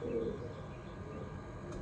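A pigeon gives a soft, brief coo at a rooftop loft, faint and close, over a low hum of background noise.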